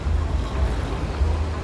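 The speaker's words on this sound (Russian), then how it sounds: "Сейчас вот фена нет, но ветер теплый ветер дует." A strong, warm night wind in Alanya buffets the microphone, a close, loud low rumble that gusts in uneven surges throughout.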